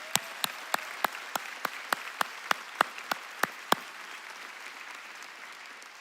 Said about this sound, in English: join me in giving Free Chapel staff a round of applause for all they do for us